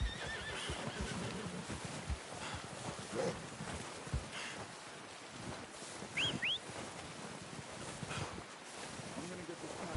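A horse whinnies briefly amid outdoor ambience, with soft hoof steps and rustling nearby and people talking intermittently.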